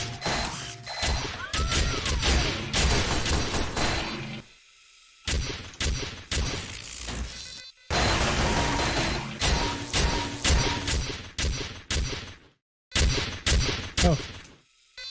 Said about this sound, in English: most of the combinations seem to be this sort of machine gun type of thing